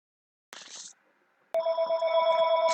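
Telephone ringing with an incoming call: a short electronic chirp, a pause, then a louder sustained trilling ring, close and clear with no talking.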